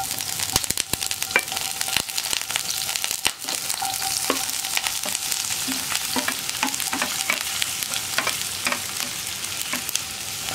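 Ginger, garlic, onion and green chili fry in a pan, a continuous close sizzle with frequent clicks of a spoon stirring against the pan.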